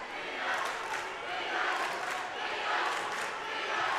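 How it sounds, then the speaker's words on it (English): A student section crowd at a basketball game roars loudly and continuously, swelling in rhythmic surges like a chant. "Crowd, student section loud."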